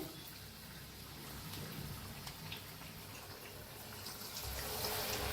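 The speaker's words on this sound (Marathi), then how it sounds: "आता अंडी सोडून घेऊया तेलात" Eggs fry in hot oil for egg pakoda, giving a continuous dense sizzle and crackle that stays fairly quiet and swells slightly toward the end, with no talking.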